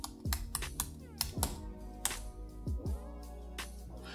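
Quiet, irregular clicking of computer keyboard keys as a command is typed into a Ubuntu Linux terminal, with short bursts of keystrokes and small pauses between them.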